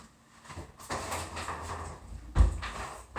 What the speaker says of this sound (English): I'm going to shut the door real quick.